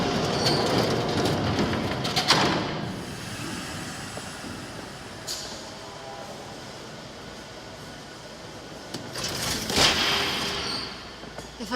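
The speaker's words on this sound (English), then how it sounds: "There's a train coming." A train rumbles past during a Batman Telltale game scene, a broad steady roar with sharper bursts of wheel squeal or clatter near the start and again toward the end, with no talk.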